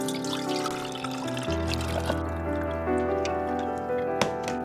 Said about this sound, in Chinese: 倒入另一个消毒过的容器